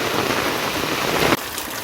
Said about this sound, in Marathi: मुसळधार पाऊस जबरदस्त मोठा पाऊस आला आणि मला भिजवून टाकला